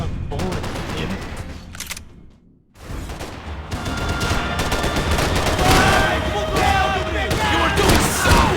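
Gunfire in the video game Max Payne 3, loud bursts of rapid shots with sharp cracks, a brief lull of near silence, then sustained firing mixed with other game effects.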